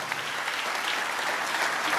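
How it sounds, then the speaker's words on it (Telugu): A church congregation clapping together, a dense, steady wash of applause from many hands that holds at an even level from start to finish. "చప్పట్లు కొడితే యేసయ్యకు స్తోత్రాలు చెప్దాం."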